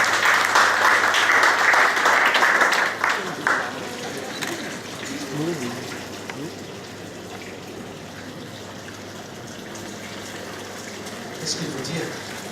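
Audience applause at a French silver medal award ceremony, a dense burst of clapping for roughly the first three and a half seconds, then fading into low room murmur and faint voices.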